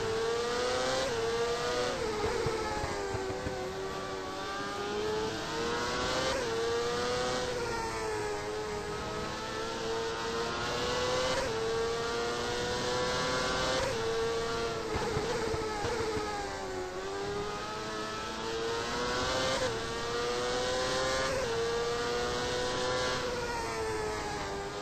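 A race car driven by Gilberto Azevedo in an Indy race screams past in repeated high revving sweeps, the pitch rising and dropping with each gear change and pass, loud and continuous without talk.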